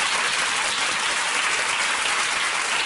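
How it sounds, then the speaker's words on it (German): A television talk show studio audience fills the room with continuous, even applause, dense and loud throughout with no pauses or speech over it. "Ja, das ist ein Applaus mehr."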